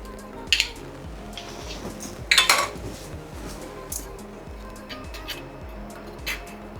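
Ginger-chili paste goes into a bowl amid a few bright metallic clinks and taps of utensils against dishes, close and sporadic over quiet kitchen background.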